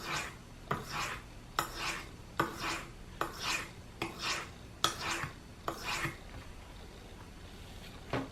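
A knife blade is drawn over a sharpening stone in repeated, evenly spaced rasping strokes, about ten close scraping passes with brief pauses between them.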